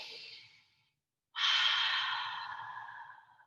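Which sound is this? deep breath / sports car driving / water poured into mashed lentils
deep breath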